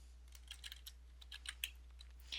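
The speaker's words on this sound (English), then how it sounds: "you can type this into the box" Fingers type on a computer keyboard, a quiet run of light, irregular key clicks over a low steady hum, with no talking.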